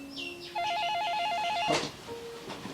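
A telephone bell rings in a short film about a wrong number: a warbling electronic ring lasting about a second, loud and close, with a brief thump afterward and no talk.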